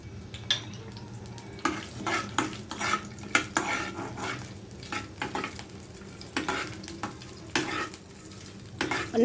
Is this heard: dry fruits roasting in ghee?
yes